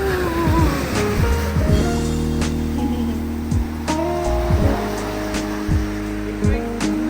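Ocean waves lap steadily against the shore at a Maui resort, a continuous close wash of surf with a low rumble and engine-like hum beneath it.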